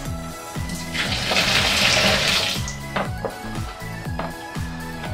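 Liquid pours steadily into a container during home stout brewing, a rushing, splashing flow that swells in the middle, over a rhythmic mechanical whirring in the background.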